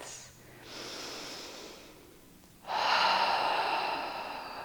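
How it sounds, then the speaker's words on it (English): Slow, deep yoga breaths taken close up: a soft breathy exhale, a pause, then a longer, stronger airy breath, with no talking. "A couple of deep breaths."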